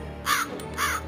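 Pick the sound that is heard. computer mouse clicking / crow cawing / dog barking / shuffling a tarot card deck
crow cawing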